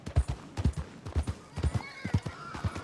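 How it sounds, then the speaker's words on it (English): A horse in the Red Dead Redemption 2 video game clip-clops along in quick, close hoofbeats, then lets out a short whinny near the end. "And clearly hear this horse."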